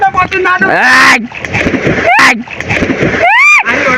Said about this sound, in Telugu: మనోడు దొంకుతే బాయిలో ఉన్న నీళ్ళు అయితే బయటకు వచ్చేస్తున్నాయి